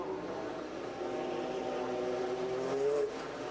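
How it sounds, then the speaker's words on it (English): An Audi TT race car at the 2004 24 Hours of Nürburgring coming into the pits: a steady engine drone with a slowly rising whine that swells briefly, heard from moderate distance without talk. "So the Audi coming in,"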